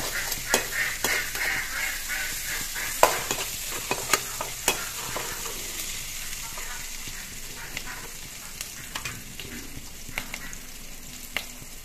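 Onion and cumin seeds, with white mustard seeds, frying together in a pan, giving a steady sizzle with scattered stirring clicks and scrapes throughout, fairly quiet and close, with no talk.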